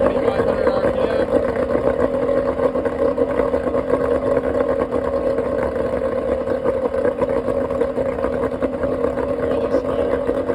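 A 1997 Fisher Freedom 200 deck boat engine runs at a steady 2,500 RPM, giving a constant, unbroken mid-pitched drone that stays loud and even throughout.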